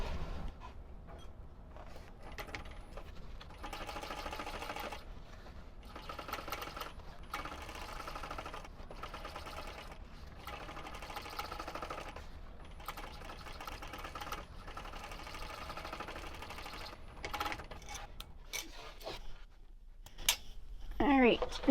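A sewing machine runs in repeated bursts of rapid stitching as it reinforces seams on a fabric shoulder bag, with short pauses between runs and a faint click near the end.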